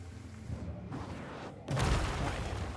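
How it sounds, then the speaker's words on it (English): Rain falls in the video game Banishers: Ghosts of New Eden as a dense, steady wash of noise that swells louder partway through, with no voices. "You think the rain is constant"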